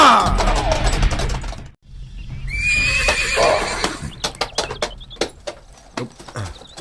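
A horse lets out a loud, close whinny on a ranch, then after a brief hush hooves clip-clop in an uneven patter with some rustling movement, and no clear talk over them.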